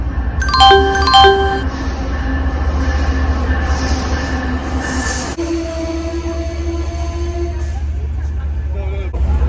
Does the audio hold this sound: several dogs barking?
no